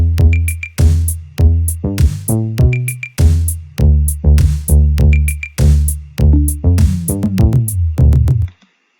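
EDM bass line with a short melody built in Soundtrap, punchy synth bass notes in a steady repeating rhythm, loud and alone, ending abruptly.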